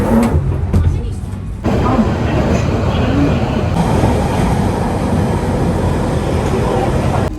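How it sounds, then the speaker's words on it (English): A London Underground Central Line train pulls away from Oxford Circus toward Tottenham Court Road, a steady close rumble and broadband roar that swells after a quieter opening and runs continuously, with faint voices in the carriage. "the train started moving, and now we're gonna go to the Tottenham Court Road"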